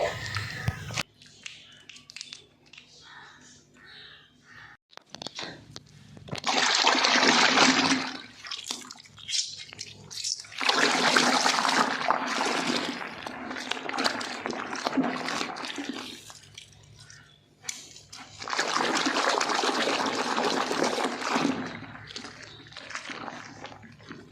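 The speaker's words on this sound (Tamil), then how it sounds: "அதை வந்து நீங்கள் இதில் கலந்து நல்லா கையை வச்சு நல்லா அடித்து விட்டுருங்க" Water in a tub mixed with rock salt and shampoo is churned vigorously by hand, giving close, loud sloshing and splashing in several long bursts separated by quieter pauses.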